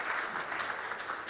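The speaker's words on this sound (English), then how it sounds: "A huge round of applause for Sonam Kalra." An audience at a staged business event applauds in a steady, even wash of clapping with no voices over it.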